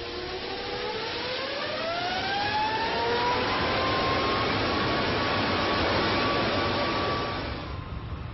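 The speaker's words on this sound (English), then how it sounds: "at last the throttles are opened and the engine brought to its full," A jet engine for the Airbus A380 runs up to full throttle in a blade-off test, a loud, sustained roar with rising whining tones that settle into a steady high pitch before easing off at the end.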